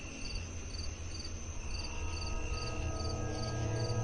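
Crickets chirp steadily at night on a quiet, lonely road, a rhythmic high trilling pulse repeating evenly over a low background hum, moderately faint and with no voices.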